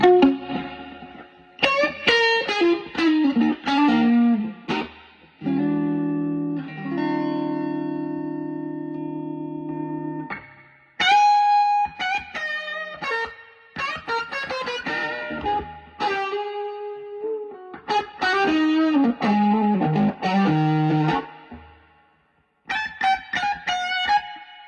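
An electric guitar plays through a Fender Hot Rod Deville amp with reverb and some drive, picked notes and held chords ringing out in bursts with short pauses between phrases, trailing reverb tails, no talking.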